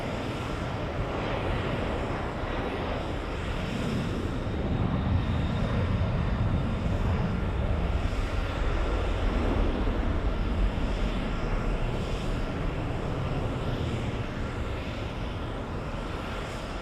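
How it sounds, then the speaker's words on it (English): An airliner bound for Los Angeles accelerates down the runway for takeoff. A loud, sustained jet engine roar with wind rumble builds and holds throughout, steady and dense, with no talking. "Captain Canmobile racing down the runway, flying to Los Angeles"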